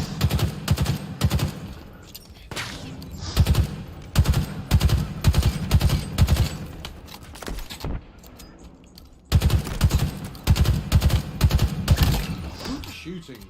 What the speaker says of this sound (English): Good shooting, Spartan.